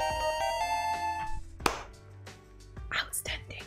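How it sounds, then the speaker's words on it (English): A mobile phone ringtone plays as a short melodic tone sequence at the start, followed by scattered taps, clicks and soft handling noises nearby. "Oh, that was my phone."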